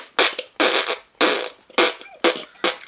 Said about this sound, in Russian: Кто тут громко пукает в лесу?